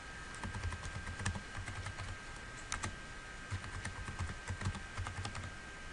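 Password typed on a computer keyboard during a CentOS 7 install, with quick, close clicking keystrokes in an uneven rhythm over a faint background hum and no speech.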